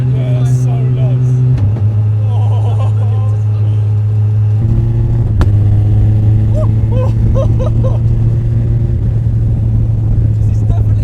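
A car powered by a 1440cc Hayabusa engine on a test drive, a loud steady engine drone heard from inside the cabin, pitch holding and shifting slightly through gear changes, with people talking over it.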